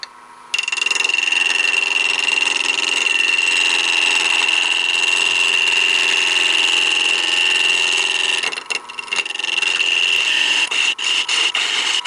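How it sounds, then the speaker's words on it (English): A wood lathe spinning at about 1300 RPM while a skew chisel roughs down a turned bowl piece, a steady loud whirring scrape with a sustained high tone, starting after a short pause and running continuously with a brief dip near the end. "I'll be roughing it down with a skew chisel"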